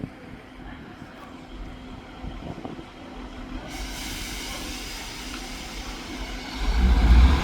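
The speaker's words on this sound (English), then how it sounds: "the 1440 East Midlands Railway service to Norwich should now be departing" An East Midlands Railway diesel train pulls out of Manchester Piccadilly on the 14:40 service to Norwich with a steady rumble and hiss that grows louder toward the end.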